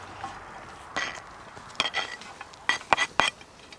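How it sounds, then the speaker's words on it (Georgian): Pieces of Racha-style ham are tipped into a frying pan for a stew, giving a few scattered metallic clinks and clattering knocks that cluster toward the end, close by with no talk. "ტაფაზე დავყრი ამას."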